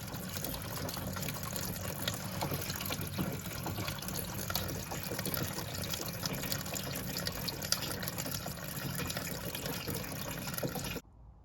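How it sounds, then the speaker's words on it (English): Old coolant drains from an Audi 1.8T engine into a barrel in a steady, gushing stream of splashing liquid that runs continuously and then cuts off abruptly near the end. "let's drain down into the barrel."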